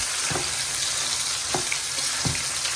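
Mung dal fries in a pan with a steady, close hiss and sizzle, broken by a few soft scraping stirs, with no voices.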